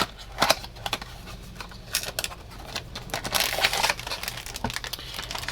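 Plastic model kit packaging is opened and a bag of olive drab, dark green and black parts for a Dune ornithopter kit is handled, giving close crinkling and rustling with scattered sharp crackles and no speech.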